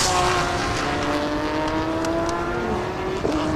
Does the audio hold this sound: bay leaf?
no